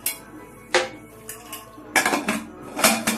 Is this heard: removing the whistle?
yes